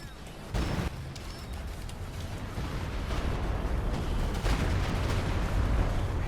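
Artillery barrage in Company of Heroes 2, a steady rumbling wash of distant shell bursts with a couple of louder booms early and midway, continuing without a break.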